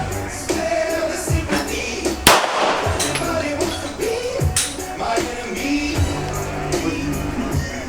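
A pistol fires a single loud, close crack at IPSC Production Division shooting practice, followed by a brief ringing decay, with steady range ambience before and after.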